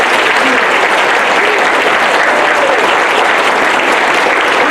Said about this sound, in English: would you all give your mayor another round of applause